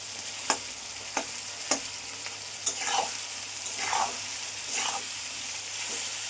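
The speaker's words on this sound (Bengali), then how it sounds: "এবার এটাকে আমি কষাতে থাকবো।" Tomato and spices stir-fried in a pan, a steady close sizzle broken by several sharp scraping clacks of a spatula stirring and pressing the mixture.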